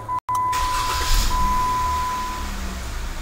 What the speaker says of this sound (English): This will trigger the remote starter and the Idatalink module to start your vehicle.